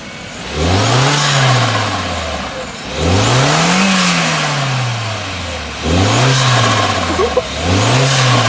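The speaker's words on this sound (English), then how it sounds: "I'm gonna rev it up" Car engine fitted with a cold air intake, revved in a parking lot outside a Walmart: three loud, close rev cycles, each pitch swelling and then dropping back, the last two quicker and shorter.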